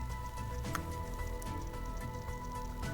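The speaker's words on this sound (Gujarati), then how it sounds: "રાત્રિ દરમિયાન ધોધમાર વરસાદ ખાબક્યો હતો।" Heavy rain falls steadily during a night downpour in Junagadh district, Gujarat, a dense, continuous patter with scattered sharper drops, with no voices.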